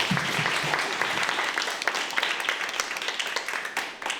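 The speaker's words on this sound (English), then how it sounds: "I would like to give one more round of applause." An audience at a history society evening breaks into a steady round of applause, many hands clapping together at an even level and then tapering off slightly at the end.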